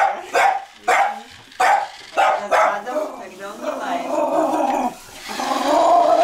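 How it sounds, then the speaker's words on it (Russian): A dog barks sharply in a home, a run of close, loud, evenly spaced barks that turns into a low, continuous growl, with people talking over it. "Он же уже живет здесь, что ты лаешь."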